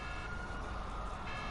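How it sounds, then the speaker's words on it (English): A wailing alarm outside the FBI building in GTA 5 sounds steadily at low level in a short stretch, a sustained tonal siren with no speech. "I can hear the alarm"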